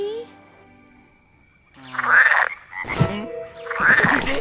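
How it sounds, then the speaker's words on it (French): Cartoon frogs croak at a pond's edge at night, a few loud, close croaks in short bursts, with a character's voice briefly heard among them. "Non, Bernie, ce ne sont que des grenouilles au bord de l'étang."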